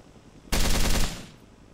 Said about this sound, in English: Someone's still shooting at him.